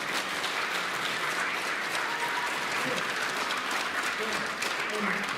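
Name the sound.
audience applause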